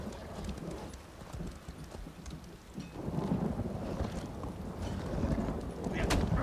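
Horse hooves clip-clop steadily during a ride in The Elder Scrolls Online, a continuous rhythmic trot heard alongside thunder and rain, with voices talking over it.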